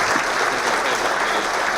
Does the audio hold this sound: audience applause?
yes